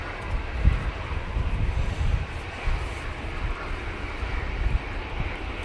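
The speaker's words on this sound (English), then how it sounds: "A great landing." An airplane landing at Manchester Airport in a gusty crosswind, a steady broad roar of engine and rushing air with low wind buffeting throughout, fairly loud and continuous with no talk.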